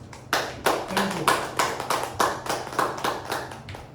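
A small Toastmasters club audience claps at a meeting, a run of fairly even, close handclaps keeping a steady beat for a few seconds with no talking.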